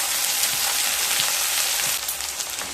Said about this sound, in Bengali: পেঁয়াজ আর লঙ্কাকে হালকা ভেজে নেব